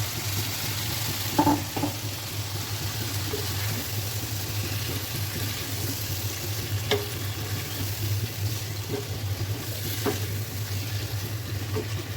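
Cauliflower, potato and tomato sauté in a pan of oil seasoned with cumin powder, a continuous close sizzle broken by a few scraping stirs and small clicks, with no talking.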